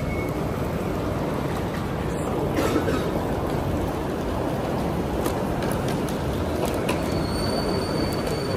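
A Bangkok BTS Skytrain runs with a dense, steady rumble and rushing roar throughout, broken by faint high squeals and clicks, with no voices.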